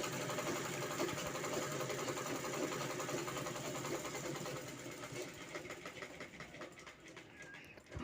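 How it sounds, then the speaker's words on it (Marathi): Sewing machine stitching a quilted canvas bag along a marked line, its fast rhythmic mechanical chatter running close and steady, then easing off toward the end. "इथं मार्किंग केलं आहे मी त्याच्यावर शिलाई घेते आहे"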